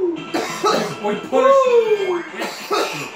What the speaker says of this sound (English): We stop coughing.